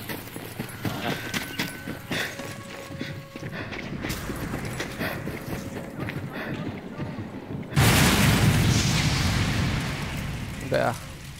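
A planted bomb goes off in Sniper Elite 4 near a parked local plane. Quieter game sounds and rumbling come first, then a sudden loud blast roars for a few seconds with a brief sharp crack near the end, while someone talks over it.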